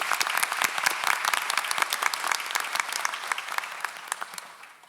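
Applause from the audience at a school district board meeting, a dense, steady patter of many hands clapping that tapers slightly toward the end, with no speech over it.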